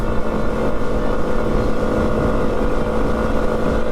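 Several small dual-sport motorcycles, a Yamaha XT250, a Honda XR150L and a Yamaha TW200, run at wide-open throttle around 60 mph, giving a loud, steady engine drone with wind buffeting and no letup throughout.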